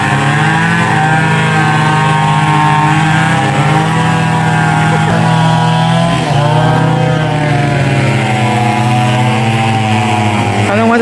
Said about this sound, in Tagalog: Maingay po dito, gawa ng power saw